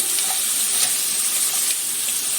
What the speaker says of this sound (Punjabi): ਇਹਨੂੰ ਹਲਕਾ ਜਿਹਾ ਫਰਾਈ ਕਰਨਾ